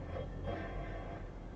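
A train in a video game rolls steadily along the track, with a continuous low rumble and mechanical hum that stay close and fairly loud from start to finish.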